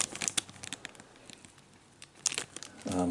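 Plastic bags of parts from a 1/700 scale HMS Hood model kit crinkle softly up close in quick, crisp rustles, with a short louder crackle at the end and no talk.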